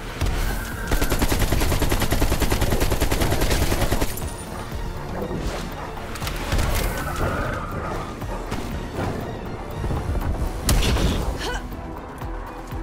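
Rapid automatic gunfire in Call of Duty: Black Ops Cold War on the Nuketown '84 map, loud sustained bursts of shots with a few pauses, up close.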